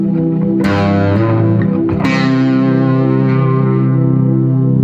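A distorted electric guitar plays sustained notes with a quick legato change between pitches, drenched in effects and reverb.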